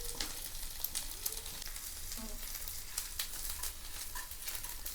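Drumstick leaves and onion sautéing lightly in a pan for adai dosa, a soft, steady sizzle with faint stirring patter, close but quiet, no voices.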